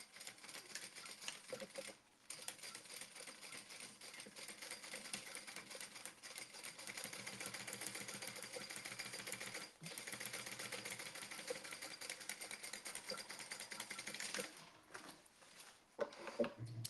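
A sewing machine topstitching fabric runs in a faint, steady whir for most of the stretch, pausing briefly near the start and the middle and stopping near the end.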